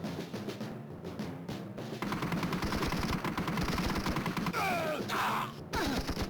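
Gunfire fills Medal of Honor: Underground on the Game Boy Advance, a dense run of rapid shots that rattles on almost without a break for several seconds. It sounds under busy game noise with tinny effects.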